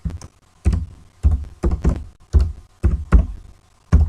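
Keys struck on a computer keyboard while typing text into an Excel cell, with close, loud, separate clacks in an uneven rhythm, about ten presses with short pauses between them and no talking.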